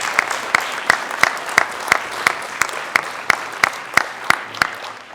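Audience applause at a French tech meetup on media and popular culture: steady massed clapping from a live crowd, sustained throughout with sharp, evenly spaced louder claps standing out.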